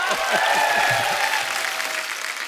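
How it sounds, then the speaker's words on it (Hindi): Loud applause from a studio audience on a comedy show, dense clapping that starts strong and slowly tapers, with a voice faintly audible underneath. "एक बार अमित जी के लिए जोरदार तालियां हो जाए।"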